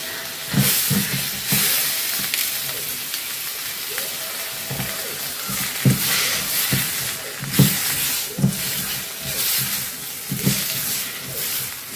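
Tomatoes frying in a pan for Tamil tomato chutney, a steady broadband sizzle and hiss with faint clinks and bumps of utensils recurring throughout, fairly close and continuous with no talking.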